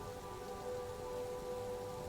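Steady rain falls during a storm, a dense, even patter like drops on a window and roof, continuous and soft, with no voices.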